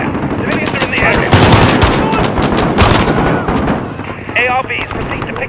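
Call of Duty: Modern Warfare gameplay with loud, dense automatic gunfire and rapid bursts that overlap, shouted voices mixed in, and a brief whistling tone near the end.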